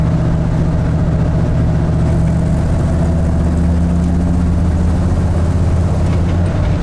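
A Ford F150 Bullnose truck with a built 302 engine runs steadily close by, a deep, loud, even rumble that holds for the whole stretch with no one talking.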